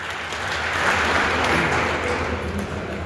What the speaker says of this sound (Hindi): आप जो जोरदार तालियां बजाएंगे